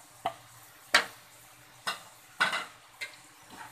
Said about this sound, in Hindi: इसे भी बराबर से मिक्स कर देंगे।